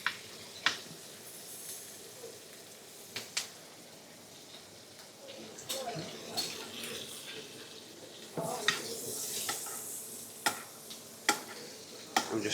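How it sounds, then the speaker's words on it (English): Butter sizzles and starts to brown in a pan in a hotel kitchen, with a soft frying crackle broken by sharp clinks and scrapes of stirring and basting. "So we're just literally just going to start to brown this butter off a little bit."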